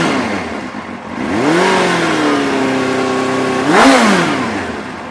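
A rare Suzuki sport motorcycle engine catches and revs up, holding a rising and falling tone, then blips sharply once more near the end, loud and close with no talk.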